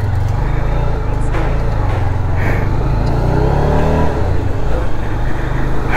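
A motorcycle ridden from Siliguri up to Darjeeling via Mirik, its steady engine drone running without a break, mixed with heavy wind rush from the moving bike.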